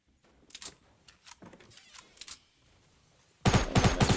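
Gunfire in the Fortnite video game: scattered short bursts of rapid shots at first, then a louder sustained volley near the end, with little talk.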